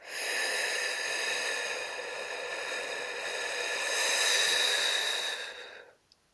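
A breathwork exercise for sleep and relaxation, with one long, close, airy nasal breath that hisses steadily for several seconds and then fades to silence.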